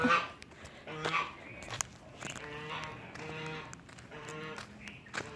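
Dog barking outdoors in French Polynesia, a series of short scattered barks at moderate distance mixed with other animal and ambient sounds, with a voice talking in between.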